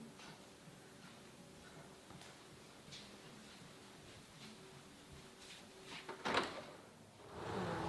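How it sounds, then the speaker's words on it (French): A door is opened in an old-style house, a short burst of creaking and latch noise standing out from a quiet, hissy room tone, with further rustling movement right after. "Planchet, ouvre la porte"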